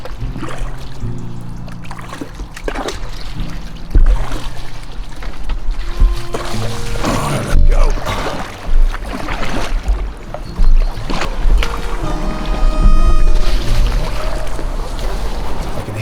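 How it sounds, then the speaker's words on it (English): Water rushing over a weir in marshland, heard from a kayak. A constant rushing wash sits beneath nearby paddle splashes and hull knocks, with occasional louder bumps throughout. "I can hear behind me that all too familiar sound of a weir."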